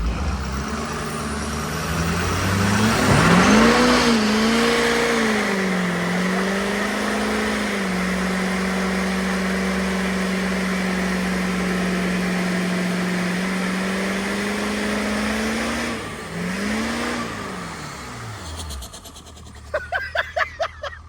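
A 1979 Ford crew cab swapped to a 6.7 Powerstroke diesel revs hard while spinning its tires, the engine whining and climbing in a loud sustained roar before dying down into a few sharp clicks at the end.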